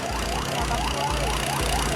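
A fire engine's siren wails over steady rumbling traffic during a house fire, with repeated rising and falling sweeps, close and continuous, with no talk.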